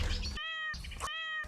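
A cat meows twice in quick succession, each call a clear, close, tonal cry separated by short gaps, with a brief noisy burst of background sound between them and no talking.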